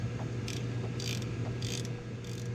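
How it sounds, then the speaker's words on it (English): A ratchet wrench clicks in short bursts while tightening a front brake caliper bracket on a 1995–2002 Ford Ranger 4x4, four quick zipping strokes close up over a steady low hum. "Get this tightened up, this caliper bracket."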